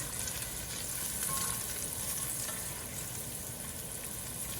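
Garlic and crushed red pepper sizzle in oil in a pan for pasta with peas, a quiet, steady crackle with no voices.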